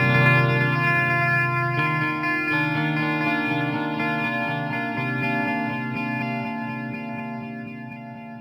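Guitar played through a Line 6 Echo Park delay pedal set to long repeats, with chords ringing out and smearing into lush, trailing echoes that slowly fade.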